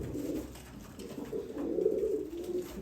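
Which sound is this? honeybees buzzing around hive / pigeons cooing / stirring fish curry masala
pigeons cooing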